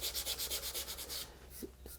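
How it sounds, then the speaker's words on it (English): A power sander works over dyed hardwood, giving a rapid pulsing rasp of abrasive on wood in quick regular strokes that then stops, leaving a few faint knocks. "The hard wood, it didn't go in deep enough, so that's what I'm sanding off."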